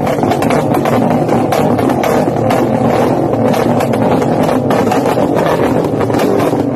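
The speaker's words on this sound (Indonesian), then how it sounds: "naik motor dengan suara yang kencang" A loud, steady motorcycle engine roar runs without pause, thick and rumbling with wind buffeting over it, as if riding close to the motor.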